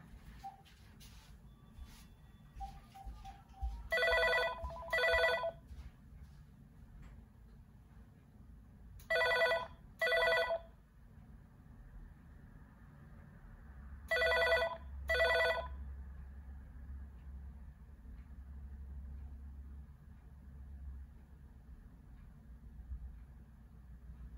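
An AT&T EL52303 DECT 6.0 cordless phone rings in three clear double bursts of electronic trill, spaced about five seconds apart, over a low steady background hum.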